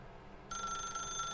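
Telephone ringing in The Stanley Parable: Ultra Deluxe game, a shrill tonal ring that cuts in abruptly midway over a low background hum and keeps sounding steadily to the end.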